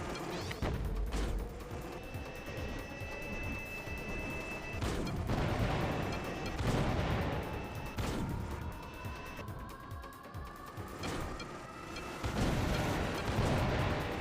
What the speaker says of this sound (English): We're just going to fire off into these directions here to basically kill these enemies as they appear